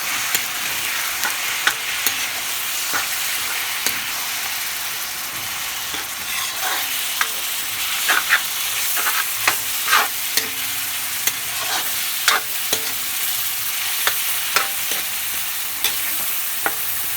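Ground meat fries with red onions in a pan, giving a steady soft sizzle broken by frequent clicks and scrapes as a spatula stirs it; no one speaks.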